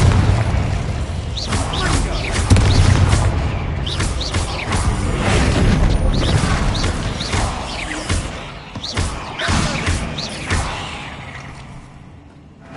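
Explosive Confringo spell blasts in Hogwarts Legacy, heavy booms recurring through a game scene full of other effects, with talk over the action.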